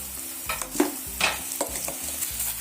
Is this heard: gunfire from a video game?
no